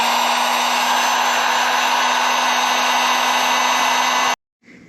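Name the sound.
heat gun removing stickers from KTM 690 SM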